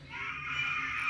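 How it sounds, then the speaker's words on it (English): A child screams continuously in a high, sustained wail, loud and close throughout, with no talk over it. "My child's screaming."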